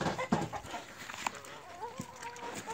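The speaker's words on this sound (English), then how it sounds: "A little bit of dispute going on with chickens" Chickens cluck and squabble close by while helping themselves to pig feed, short agitated squawks and a rising call breaking over a low, busy background.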